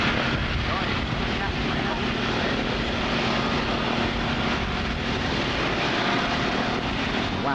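A propeller aircraft taxis on the ground with a steady, loud engine and propeller drone that never lets up, and people talk over it.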